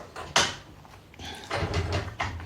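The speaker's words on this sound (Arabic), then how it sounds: "وفي صوت خبط" Several dull knocks or bangs inside a home, a sharp thud near the start followed by rougher thumping clusters later, fairly close and moderately loud, with no talking.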